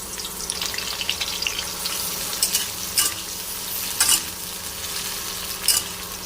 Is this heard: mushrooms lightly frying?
yes